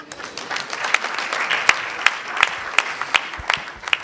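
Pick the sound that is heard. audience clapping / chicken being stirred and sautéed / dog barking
audience clapping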